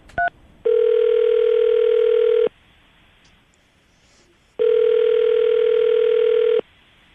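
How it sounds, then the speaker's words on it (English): A short beep, then two long steady telephone ringback tones separated by a pause of silence, loud and close. "We're gonna call him right now and see if we can get him on the phone"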